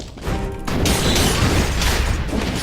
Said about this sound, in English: That was an explosion and a